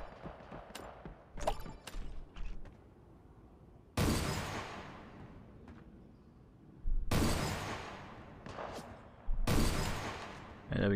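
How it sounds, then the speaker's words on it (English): Loud gunshots in the Creative Destruction battle royale game, a few sharp isolated blasts and short bursts separated by quieter gaps with faint background noise. "we've got dude shooting me now"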